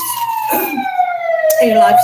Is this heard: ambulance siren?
yes